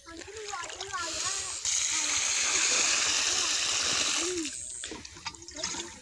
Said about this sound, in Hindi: इसे भी हम पानी लगाते हैं।